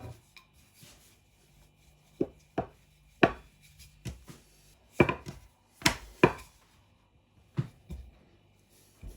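A knife chops through rolled homemade pasta dough on a board, about a dozen distinct close cuts at an irregular pace with quiet scraping between them and no talk.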